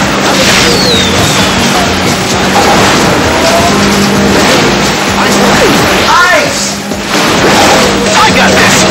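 A firework item goes off in the kart racing game Sonic & All-Stars Racing Transformed, with loud bursts and crackling over continuous engine roar and game effects, and a voice talks over it.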